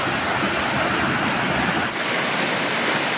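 Water rushes below the pool of a waterfall at the Brook 'N Boulders resort, a loud, unbroken broadband roar close by with no voices.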